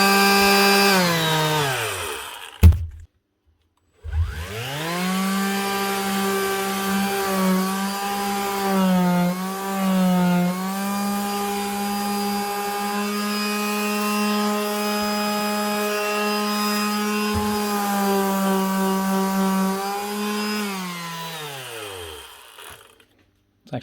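A Makita DBO480 cordless sander works across lino with a steady, buzzing whine, starting and stopping briefly at first, then running continuously for about twenty seconds, its pitch dipping slightly as pressure changes before it winds down.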